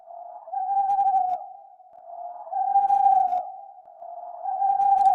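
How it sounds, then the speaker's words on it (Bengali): An owl gives three long, hollow hooting calls that repeat at an even pace, clear and fairly loud against otherwise silent surroundings. "প্যাঁচার ডাক, শিয়ালের ডাক শোনা যাচ্ছে দূর থেকে"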